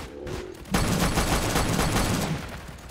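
Rapid machine gun fire from a gun nest in a video game, a dense continuous burst starting abruptly and rattling on for about two seconds, loud and close.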